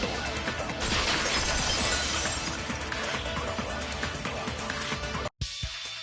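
A vase shatters in a mystery video game, a dense, bright crash of breaking ceramic that rings and scatters for several seconds, followed by a brief cut and a few softer clinks.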